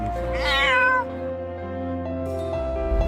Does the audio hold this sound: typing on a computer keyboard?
no